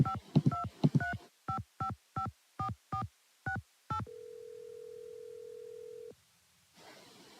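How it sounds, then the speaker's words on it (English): A telephone number dialed in a Nancy Drew mystery video game: about ten crisp, evenly spaced touch-tone beeps, then a steady tone held for two seconds before falling silent. "I didn't dial as much of the number as I thought I did."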